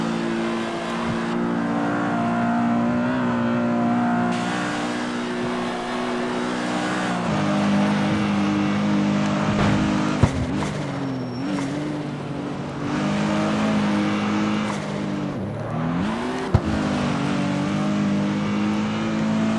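A Nissan Z roars through CarX Street, its engine holding a steady loud drone with pitch sweeps as it shifts and revs, punctuated by a couple of sharp clicks and a brief dip mid-run.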